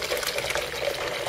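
Tap water rushes steadily into a kettle for home brewing, a continuous close hiss and gurgle at even volume.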